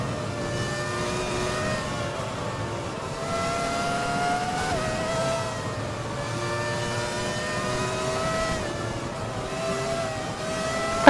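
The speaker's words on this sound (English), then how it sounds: "enjoy the sounds of this car as we go for another onboard" A classic Formula 1 car engine roars steadily from onboard during a race in Japan, its pitch climbing and dropping through gear changes, loud and continuous with no talk.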